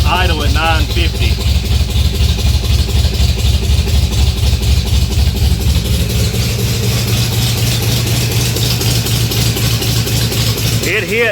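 A flathead V8 fitted with a Holley Sniper fuel injection kit idles steadily at close range, a continuous low rumble with a strong even pulse; a voice briefly talks over it near the start and end.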